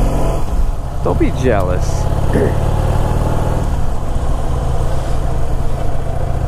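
A Harley-Davidson Heritage Softail motorcycle engine idles with a low, steady rumble, while someone speaks briefly over it.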